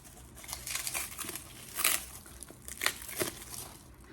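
Plastic wrap around a stack of matte sticker sheets crinkles and tears in close, irregular bursts as it is pulled open by hand, with no talking.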